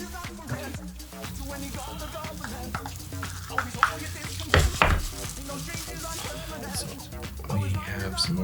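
Thick grain filler slurry being mixed and stirred in a container for finishing a bass guitar, with repeated scraping and clinking strokes at close range, some louder knocks midway, and a voice speaking intermittently over it.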